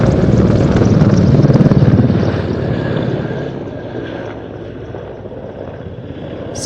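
A Merlin helicopter flying at the Roskilde airshow gives a loud rotor and engine roar that swells near the start, then fades into a steadier, fainter drone as it moves away.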